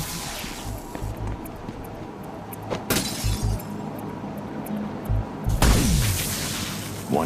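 In Batman: Arkham City, a jamming tower terminal is smashed: sharp shattering crashes and booming impacts burst out at intervals, with the loudest smash near the end, over quieter game ambience.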